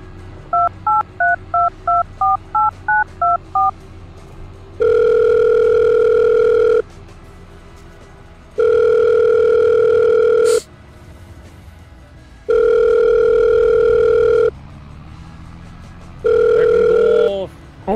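An in-game phone call in Farming Simulator 22 opens with a quick run of dialing beeps, then several long, loud, evenly spaced ringback tones with short pauses between them.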